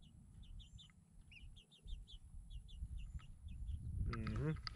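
Chickens in a house cluck and chirp in short repeated calls under steady background noise, with a louder squawk near the end.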